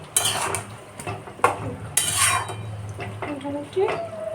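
Metal clanks and scrapes as the lid of a cooking pot of potato and green papaya curry is lifted to check it, sharp bright clatters with a soft simmer beneath, no talking.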